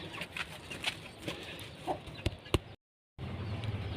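Young hen chicks peck at scattered feed with quick tapping clicks and soft clucks nearby, broken by a brief moment of silence before the pecking resumes.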